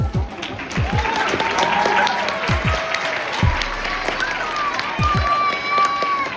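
A church audience at Enon Tabernacle Baptist Church claps steadily through a Q&A with a football player, dense and fairly close, with low thumps and a voice sounding over the applause.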